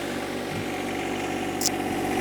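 A John Deere 1025R compact tractor engine runs at a steady idle, a close, continuous low drone with a brief higher hiss partway through.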